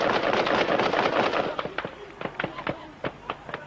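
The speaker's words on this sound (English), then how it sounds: "Bop soldiers opened fire." Soldiers firing on a convoy and a blue Mercedes in archival footage: dense, loud gunfire at first, then a string of separate sharp shots spaced out over the last couple of seconds.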